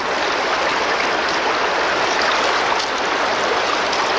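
Water sloshing and swirling in a gold pan during panning on a gold-panning trip outdoors, a steady, dense rushing wash that continues without a break and sits close and fairly loud.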